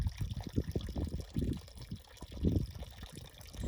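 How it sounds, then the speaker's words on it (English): Fresh water from an underground spring trickles and splashes out of a pipe outdoors in the desert, a close, continuous uneven gurgle and pour with no talking. "right here you have fresh water coming out of a pipe that's attached to an underground"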